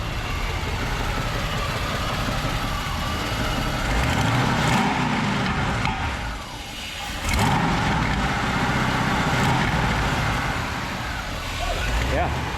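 A 1965 Lincoln Continental hot rod, nicknamed Godzilla, runs steadily on its first start, a loud continuous engine rumble with a couple of surges in revs, while people talk nearby over it.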